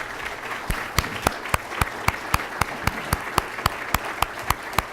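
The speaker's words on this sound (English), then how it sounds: "let's all give them a warm round of applause for the great work they do" An audience at the 2014 Business & Education Awards applauds school principals, with sharp, evenly spaced claps standing out over a bed of broader applause that continues steadily throughout.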